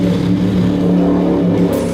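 A deep diesel engine of a Toyota 300 Series Land Cruiser GR revs steadily with a throaty, droning exhaust note, loud and close, with no voices.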